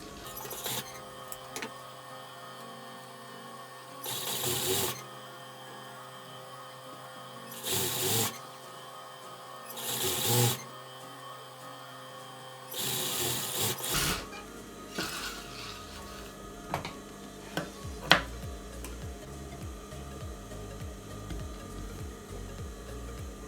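A sewing machine stitches the lining onto a blouse with invisible thread piping, running in several short bursts of whirring separated by pauses, then quieter handling and rustling of fabric.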